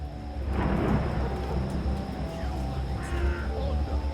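A crow caws repeatedly in the video game Dreamfall Chapters, its harsh calls rising over a steady, rumbling backdrop of rain and distant thunder.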